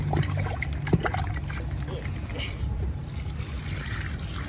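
Water trickles as it is poured into cement being mixed for a village kitchen renovation, a soft continuous dribble with a clunk near the start, under a low background hum.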